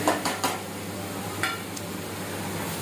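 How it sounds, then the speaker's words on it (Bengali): Spoon scraping and knocking in a pot of egg and potato curry after salt is added, a few clinks at the start and another mid-clip over a steady low cooking hiss, no talk. "নুন তরকারিতে দিয়ে তারপরে আবার চামচ দিয়ে উঠাচ্ছে"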